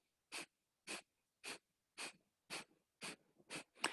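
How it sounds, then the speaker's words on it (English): Eight sharp, forceful nasal exhales in yoga breath of fire practice, evenly paced about half a second apart, close and loud in a quiet room. "So close your mouth and you're exhaling through the nose."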